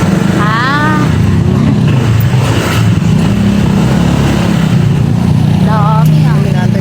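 A motorcycle engine drones loud and close throughout on a ride, a continuous low rumble with wind noise, while people talk over it.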